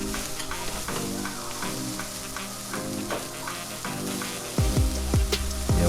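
Celery and other chopped vegetables sauté in a pan with a continuous close sizzle and a few spoon scrapes and stirring knocks near the end. No one speaks.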